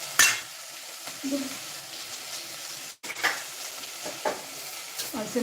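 Soft sizzling and crackling of mustard seeds and onions tempering in a clay pot, with occasional stirring clatter and brief pauses.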